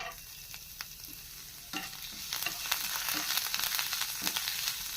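Chopped ginger and garlic fry in hot coconut oil, sizzling steadily and growing louder as a utensil stirs and scrapes the pan in irregular strokes, with no talking.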